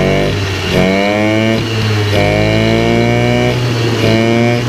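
A small moped engine running with an overly rich carburettor jet revs repeatedly, its pitch climbing in three or four rising sweeps then dropping back, loud and close with a buzzy, rough tone.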